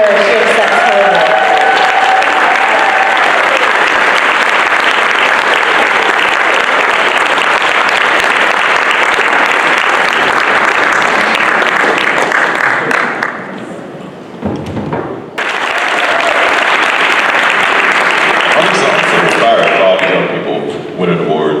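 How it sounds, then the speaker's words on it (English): Loud, sustained applause fills the hall at an awards ceremony, a dense wash of clapping that dips briefly to near silence midway before surging again with scattered claps and crowd noise. "let's clap for her as she accepts her award"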